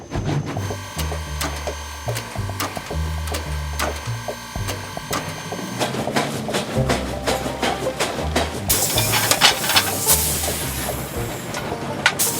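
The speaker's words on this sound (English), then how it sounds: "This reciprocating movement is what makes the well-known steam train sound of" Steam locomotive chugging with a steady, rhythmic chuff from its piston exhaust, heavy low beats repeating evenly, joined by hissing steam and rising clatter toward the end.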